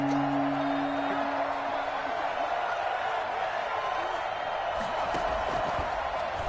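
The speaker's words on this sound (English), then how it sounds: "The crowd getting into it as we come up on a big 3rd down" Football stadium crowd building up before a big third-down play, a continuous loud roar of many voices that stays steady throughout, with occasional whoops near the end.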